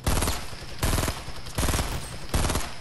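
Rapid automatic gunfire in Fortnite, loud and close, coming in four dense bursts of fire with short gaps between them.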